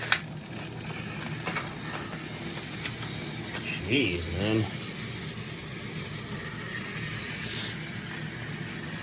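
Plarail toy trains run on a plastic track with a steady mechanical whirr and clicking of motors and gears, while someone speaks briefly over the rattling.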